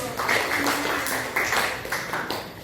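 Classroom students clapping together, a short burst of applause with a few uneven rhythmic pulses, fairly close and moderately loud.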